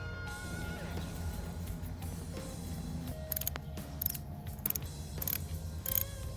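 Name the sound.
tightening sump plug on KX250F motorcycle engine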